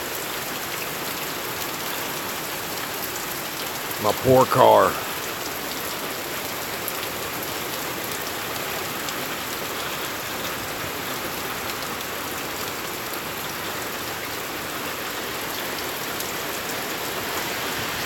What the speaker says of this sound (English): You can see the rain's gotten thicker.